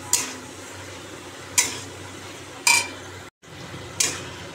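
Potatoes stir-fried in a pan with a spatula, giving four separate scraping clinks spaced about a second apart over a low steady hum, fairly near and moderately loud.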